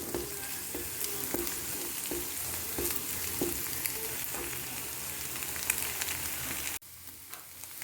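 Egg scrambles with onions in a hot frying pan, a continuous sizzle with rhythmic scrapes and knocks of a spatula, cutting off abruptly near the end.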